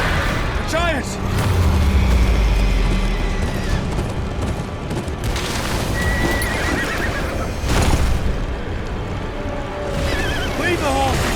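Horses neigh and whinny loudly in the video game Game of Thrones: Kingsroad, several rising calls over hoof clip-clop, booming action and music, with a voice speaking briefly.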